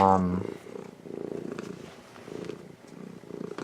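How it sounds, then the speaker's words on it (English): A house cat making low rumbling, purring murmurs close by, coming in several soft pulses after a short meow-like tone at the start. "My cat's here meowing"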